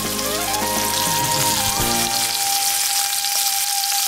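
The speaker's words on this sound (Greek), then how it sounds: "Το λάδι ήδη άρχισε να τσιτσιρίζει, οπότε παίρνω τις λωρίδες του σηκωτιού και τις ρίχνω μέσα στο τηγάνι μου." Strips of calf liver dropped into hot sizzling oil in a frying pan, a loud close crackle with clattering as they land, settling into a steady fry with no talking.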